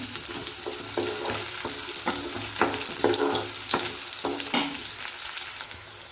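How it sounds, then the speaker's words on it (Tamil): Onions sautéing in a pan for peanut chutney, a continuous soft sizzle broken by repeated scraping strokes of a spatula at a steady, unhurried rhythm, close and fairly quiet with no voices. "வெங்காயம் தான் நல்லா வதங்கணும்"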